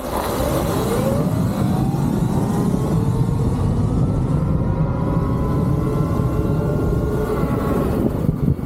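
Modified Talaria electric motorbike accelerating hard on a 0-60 run, its motor whine rising steadily in pitch over about eight seconds, loud and close with constant wind rush and no talking.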